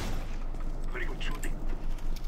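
Gunfire in Counter-Strike: Global Offensive, a rapid burst of rattling shots mixed with a speaking voice.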